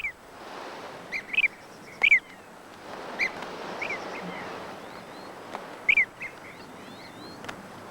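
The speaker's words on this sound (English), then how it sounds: "Blue-cheeked bee-eaters, one of our most exotic birds." Blue-cheeked bee-eaters call at sunrise in a red desert, sending out several short rolling trills in scattered bursts over a soft breezy background, some near and some farther off.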